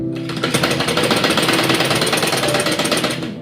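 Rapid, loud, steady rattle of a sewing machine running a straight stitch on a baby girl's dress, close up and continuous with no speech.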